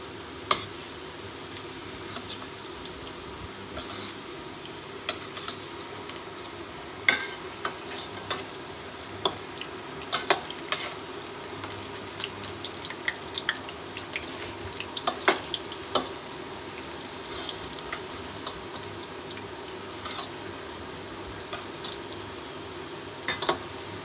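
Pakoras deep-frying in oil give a steady, soft bubbling sizzle for the whole stretch, dotted with frequent small pops and crackles and occasional light ticks, no voices.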